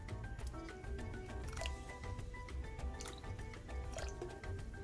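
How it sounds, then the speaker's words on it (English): Two cups of water go into a cooking pot for rice pulao, dripping and splashing in uneven bursts at close range, fairly faint, with no talk. "Now I'll add 2 cups of water."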